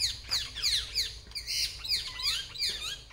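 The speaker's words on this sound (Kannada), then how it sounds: "ಸಖತ್ ಗಿಳಿಗಳಿದ್ದು. ಆವಾಗ ನೋಡಿ, ಇವಾಗ ನೀವು ಬ್ಯಾಕ್ಗ್ರೌಂಡಲ್ಲಿ ಕೇಳಿಸ್ಕೊಳ್ಳಿ" Parrots squawk repeatedly in the background near an ancient temple, shrill calls overlapping in quick irregular bursts, moderately loud against a quiet low hum.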